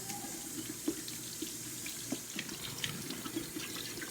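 Water runs steadily from a sink tap while a reborn doll part is rinsed under it, with small splashes and clunks as the piece is moved in the stream, heard alone at moderate volume.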